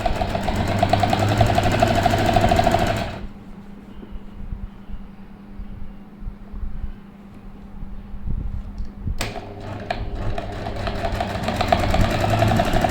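A hand-operated sewing machine double-stitches a shirt hem, producing two bursts of fast, even mechanical whirring and clatter separated by a quiet pause of several seconds.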